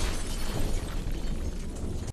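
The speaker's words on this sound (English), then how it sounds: "this causes a bomb to go off" A bomb goes off in the action film Formula 51, a loud, dense burst of blast noise that fills the whole stretch and holds steady before cutting off abruptly.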